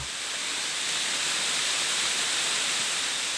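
A steady, full roar of Hongryong Falls in Yangsan, Korea, pouring down, broadband and unbroken, close and loud with no voices.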